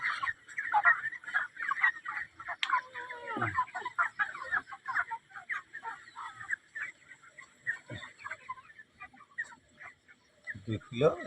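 Broiler chickens in a poultry shed cluck and call continuously close by, a dense flock chorus with occasional louder squawks, while people talk over the birds.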